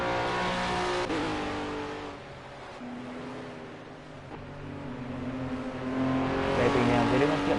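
Formula Guf race cars at Cadwell Park rev and pull away, a steady engine drone with rising and falling tones that dips mid-clip and swells louder toward the end, with commentary running over it.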